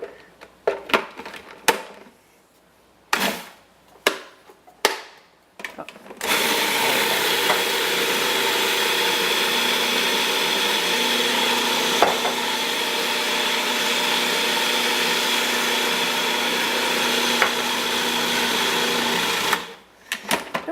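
A blender or food processor whirs steadily for over ten seconds, mixing seed pesto with hemp seed oil and olive oil, after several short pulses at the start.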